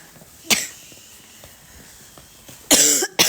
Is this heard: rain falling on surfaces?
no